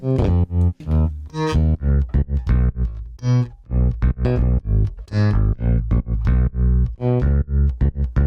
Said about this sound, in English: we also have this Ample Sound bass